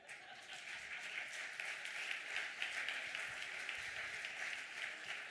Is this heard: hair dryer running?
no